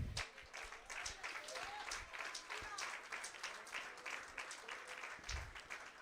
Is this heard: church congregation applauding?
yes